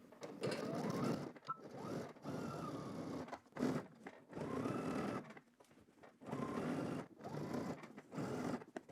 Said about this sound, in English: now I'm going to edge stitch all the way here